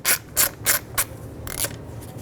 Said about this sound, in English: To finish removing the adapter ring off the blower motor, there's one more T20 screw.